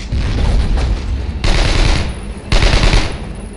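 Heavy World War II gunfire in Brothers in Arms: Road to Hill 30 rattles loudly and continuously, with sharp fresh bursts striking at about one and a half and two and a half seconds.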